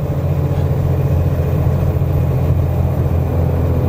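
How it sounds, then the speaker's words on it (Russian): Steady, loud engine drone inside the cab of a URAL Next tractor truck in 14th gear, laboring up a 6% grade, a continuous low rumble with no talk over it. "через микрофон вы все прекрасно слышите, что довольно шумно в машине"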